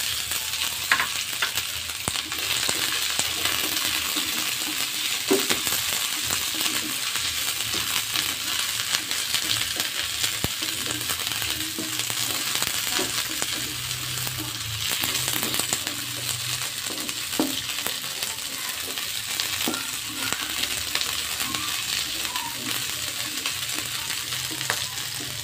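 Green beans and anchovies stir-fry in a pan, a steady close sizzle and crackle running throughout, with faint clinks of stirring and no talk.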